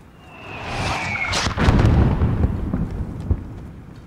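Mortar fire in a modern military shooter game on a highway battlefield: a rising whistle then a heavy rumbling blast that rolls on and fades, with a later thump, loud and booming with no voices.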